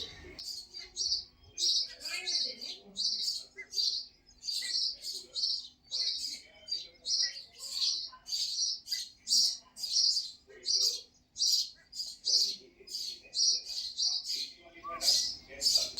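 Birds chirp in rapid, repeated bursts of high tweets throughout, fairly close, with faint bits of a voice murmuring underneath.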